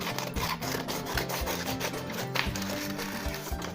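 Fabric being roughly cut out with scissors for a doll's vintage bonnet, a steady close rasping and rubbing of blades through cloth that runs continuously with no talk.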